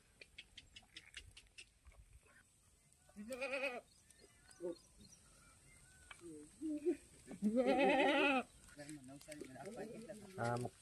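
Goats bleat several times, loud wavering calls close by in the Gir forest grazing area, with quieter animal sounds and faint background voices between them.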